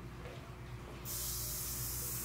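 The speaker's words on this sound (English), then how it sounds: "So I'm going to spray it over you so it sort of finally mists down to you" A rose hydrosol aromatherapy mist bursts from a spray bottle about halfway through, a single sustained bright hiss that fills the rest of the moment at close range.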